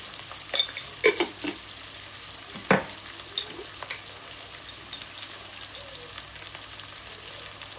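Ivy gourd and other vegetables fry in a pan with curry leaves, a steady soft sizzle broken by sharp scraping clicks of a spoon stirring, close and moderately loud, with no talking.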